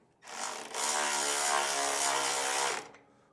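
A powered tool, likely a driver with a 3/8 socket, running bolts down on a no-drill flap mount; a close, loud whirring buzz starts, steps up, holds steady for about two seconds, then stops.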